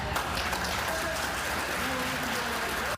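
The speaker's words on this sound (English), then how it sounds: "Her statements met with rounds of applause." Applause at a Seattle city council meeting, a steady wash of many hands clapping in a room, sustained for a few seconds with a faint voice underneath before cutting off abruptly.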